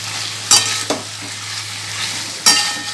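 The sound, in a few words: meat being sautéed with butter in a pan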